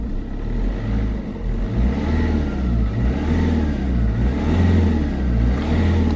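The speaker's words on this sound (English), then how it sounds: "It started. Let's let it run for a bit." A diesel car engine idles steadily after a fuel filter replacement, a close, continuous low rumble with gentle fluctuations and no talking.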